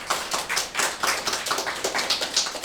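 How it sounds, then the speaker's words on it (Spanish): A church congregation claps along in a fast, steady rhythm of sharp, dense hand claps, close and loud with no voices over it. "Denle un aplauso a Jesús,"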